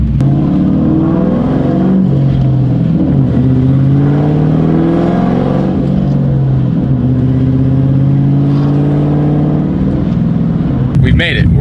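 A Mustang engine revs hard at full throttle, pitch climbing repeatedly through the gears past 3,000 RPM, loud and close throughout.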